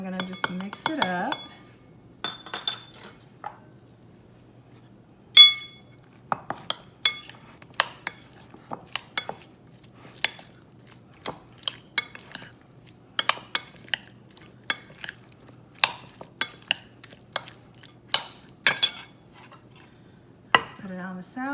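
Red onion and green pepper are mixed into a salad, with scattered light clinks and taps of utensils against a bowl in irregular bursts, fairly close in a quiet kitchen.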